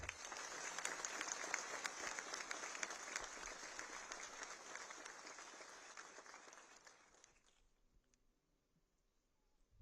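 Loud, dense applause from a seminar audience welcoming India's Defence Minister Rajnath Singh at an Indian Navy plenary session, sustained for several seconds before fading out near the end.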